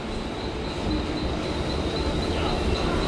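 A train arriving at Chhatrapati Shivaji Maharaj Terminus (CSMT) station in Mumbai, heard as a steady, loud rolling rumble of railcars that stays even throughout, with no voices.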